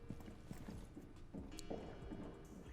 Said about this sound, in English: in the background you can hear footsteps.